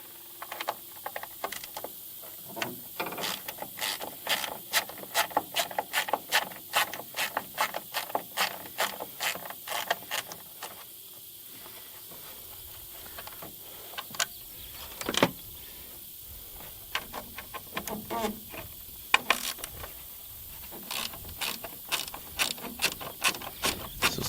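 Quarter-inch socket ratchet clicking in quick, repeated bursts while bolts are turned on a 2022 Ford F-150 PowerBoost tail light, close and fairly quiet with short pauses between runs.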